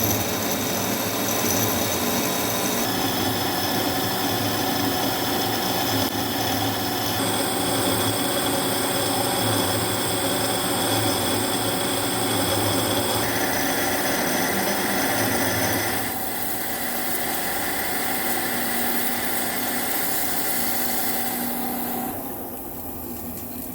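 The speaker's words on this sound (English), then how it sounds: "I need to bore the end to suit the bushing" Steady machining noise from boring the end of an excavator H link on a mill, a continuous grinding, whirring cut that holds level for most of the stretch before easing slightly near the end, with no talk.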